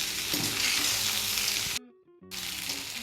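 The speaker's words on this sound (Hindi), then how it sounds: "और अब बस इसी तरीके से हिलाते हुए रहेंगे हमारी खिचड़ी को 2 मिनट के लिए।" Sabudana khichdi sizzles and fries in a kadhai while it is stirred, a dense crackling hiss that cuts out briefly and then returns.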